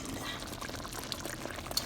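Chicken in a creamy lemon dill butter sauce, fresh from the oven, bubbles and pops softly in its dish, a quiet close crackling simmer without talking.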